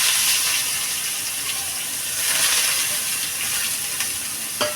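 Potato peels frying in a little oil in a wok, with steady, fairly loud broadband sizzling throughout and a few brief stirring clicks near the end.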